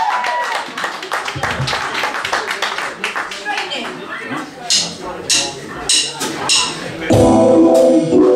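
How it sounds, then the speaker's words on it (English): A small pub audience at a live gig claps for the last band, scattered and uneven at first, with voices talking over the sparse claps before a louder burst of sound near the end. "Can I have a big round of applause, please, for the last band of the evening"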